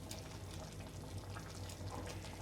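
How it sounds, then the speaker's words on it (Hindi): Water poured into a simmering pot of kala chana kadhi made with curd, a soft steady splash and bubbling that runs on without pause. "मैं पानी और आधा गिलास डाल रही हूँ"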